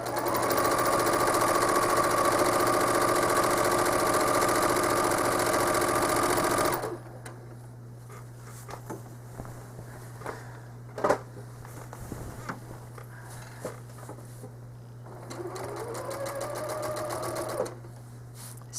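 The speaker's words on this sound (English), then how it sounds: "So I'm going to stitch in the ditch over to the corner and then down to the middle." A home sewing machine stitches in the ditch on a quilt, running loud and steady for several seconds. Quiet handling clicks follow before a shorter run at the end.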